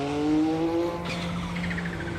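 A racing car in the Assetto Corsa video game, a Mercedes or Porsche, downshifting and braking hard: a close, droning engine note shifts pitch, and a sharp squeal-like burst follows midway.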